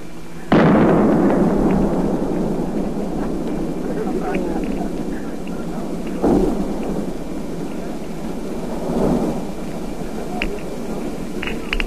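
The shock wave from a 1952 continental atomic bomb detonation arrives as a sudden loud blast, then rolls on as rumbling, thunder-like booms that swell again a few times and slowly fade.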